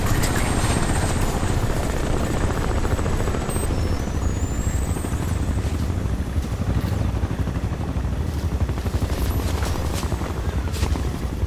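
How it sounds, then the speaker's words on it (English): A helicopter in the video game Crysis drones continuously with a dense rotor thump and engine whine, loud and steady throughout with no speech over it. "All I hear is that helicopter."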